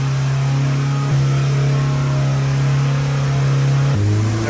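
A freshly assembled Chevrolet Silverado engine idles loud and steady in a shop, its tone stepping up as it is revved near the end.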